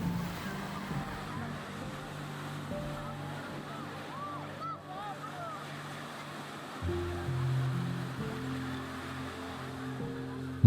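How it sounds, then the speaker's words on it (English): Ocean surf rolls onto a beach in Lisbon, a broad low wash of breaking waves with a steady rumble that swells slightly near the end, mixed with wind and faint background tones. "or just watching the waves"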